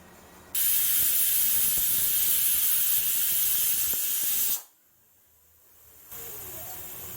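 A pressure cooker whistle vents loud, steady steam hiss while dal cooks, a broad continuous rush lasting several seconds before cutting off, then a quieter hiss resumes.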